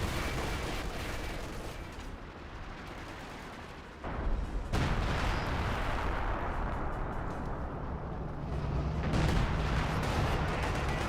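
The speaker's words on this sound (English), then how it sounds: "Captain getting hit by multiple rifle grenades." Rifle grenades burst around a captain amid steady gunfire during a Company of Heroes 2 battle, a dense continuous din of explosions and shots with a heavy blast near the middle and the roar swelling again toward the end.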